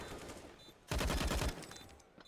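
A burst of rapid gunfire in Counter-Strike on the Vertigo map, fired blind through smoke, starts loud and sudden after a quieter stretch of game ambience and lasts about half a second before fading into background noise.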